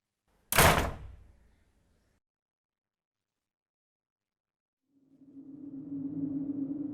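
A single heavy door thuds shut close by, followed by a few seconds of silence and then a low steady hum.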